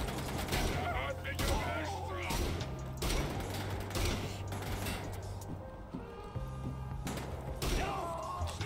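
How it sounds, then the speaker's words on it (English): Repeated heavy shotgun blasts from the Wolfenstein video game, loud booming reports spaced a second or so apart over a dense bed of game noise and muffled creature bleats. "I love this shotgun."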